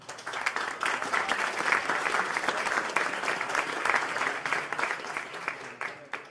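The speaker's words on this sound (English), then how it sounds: "we can give a big applause to all the staff involved to the tournament" Applause for tournament staff at the PokerStars poker championship main event final table in Barcelona, a crowd clapping with distinct individual claps audible in the wash, moderately loud and sustained, with a few crowd voices underneath.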